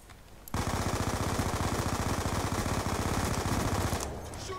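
Rapid automatic gunfire from a weapon in a first-person multiplayer shooter game, a dense, steady stream of shots that starts abruptly after a brief quiet and runs for several seconds before easing off.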